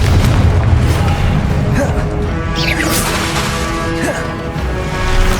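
The Confringo blasting spell going off in the game Hogwarts Legacy, heavy booming explosions and crashes rolling over a loud, continuous battle din with spell-casting shouts.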